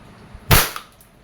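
A WE Glock 19 Gen 4 gas blowback airsoft pistol fires a single sharp, loud crack with a quick slide clack, heard close during a chronograph test, with nothing else in the background.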